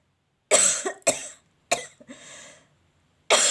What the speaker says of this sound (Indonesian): saya agak batuk ya